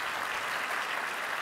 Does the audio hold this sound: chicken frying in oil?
no